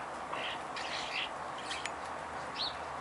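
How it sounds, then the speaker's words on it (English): Wild birds chirp outside a window near a dog, a few faint, brief tweets scattered over quiet background hiss at some distance. "There's the birds."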